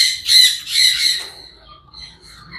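Parrots perched on a roof let out two loud, harsh squawks close by, followed by a few fainter chirps.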